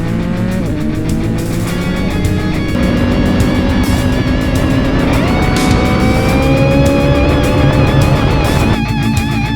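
A Honda CB1000R motorcycle on Dunlop Mutant tires, its engine revving loud and close while riding, pitch rising and falling in continuous sweeps with strong wind rumble underneath.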